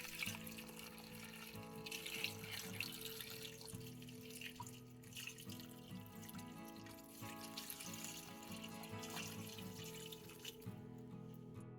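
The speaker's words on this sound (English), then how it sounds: "With the potatoes in the pot, now we'll add the vegetable stock." Vegetable stock pours into a pot of potatoes, a steady close liquid splashing and gurgling that continues throughout and then cuts off at the end.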